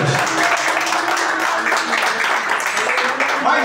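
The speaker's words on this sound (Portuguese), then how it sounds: "Palmas para Jesus." Congregation clapping throughout a Portuguese-language church service, a dense, steady wash of hand claps with voices mixed in, filling the space.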